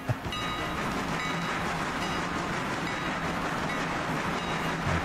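A passenger train in a video game rumbles steadily as it gets under way, with a dense continuous rolling roar and a faint high whine held throughout, loud and close with no talking.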